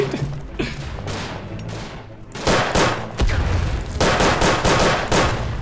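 Heavy WWI artillery barrages in Verdun trench warfare roll in as booming, crackling volleys, softer at first and then swelling into loud sustained rumbling bursts, with a brief voice partly buried under the blasts.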